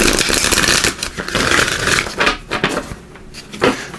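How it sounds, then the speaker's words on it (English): A deck of oracle cards is shuffled close up, giving bursts of riffling and sliding card noise in an uneven rhythm for about four seconds. No one speaks. "I'll give these a good shuffle."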